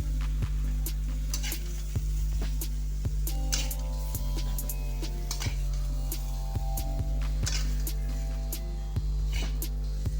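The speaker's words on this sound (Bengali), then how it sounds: "বেগুনগুলো আমার ভাজা হয়ে গেছে, এবার বেগুনগুলোকে তুলে দিচ্ছি" Steady sizzling of brinjal frying in a kadai with repeated sharp clinks and scrapes of a spatula stirring and lifting the pieces out.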